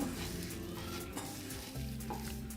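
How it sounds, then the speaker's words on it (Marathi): Bhaji batter is mixed by hand in a bowl, giving a soft, continuous squelching and stirring that stays quiet and close, with a low hum underneath. "आता आपण हाताने मिक्स करून घेऊया"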